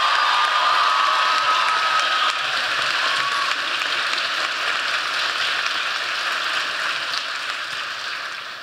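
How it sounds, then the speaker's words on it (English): A crowd at a college sophomore ring ceremony gives a sustained round of applause, dense clapping that stays strong throughout and fades a little toward the end. "Can we give them a round of applause?"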